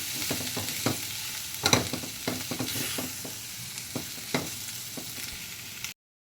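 Chopped potato tumbling into spiced vegetables frying in a pan, with a steady close sizzle and repeated spatula scrapes and taps while stirring, then a sudden cut to silence.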